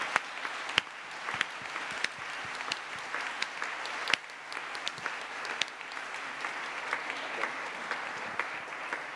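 Conference audience at a music research society meeting gives sustained applause, many hands clapping in a large room, moderately distant, with occasional sharper claps and no speech over it.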